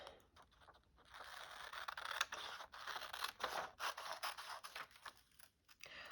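Scissors cutting a strip of paper for a junk journal page, a steady run of crisp snipping and rustling close by, with no talk.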